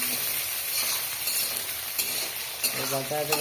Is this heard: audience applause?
no